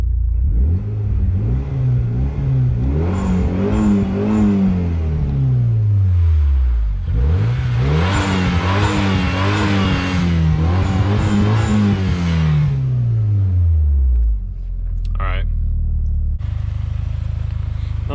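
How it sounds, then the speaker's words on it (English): A 1998 Eagle Talon TSi engine revs up hard several times, pitch climbing and falling in long sweeps, then settles back to a steady idle. Loud and close, no talking. "give her some revs, boy."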